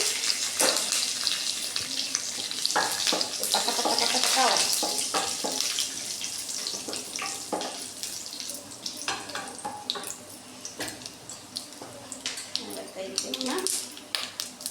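Onions frying in a pan for a simple chicken curry, a steady hiss and crackle running throughout with scattered sharp pops, close by, while a person talks over it.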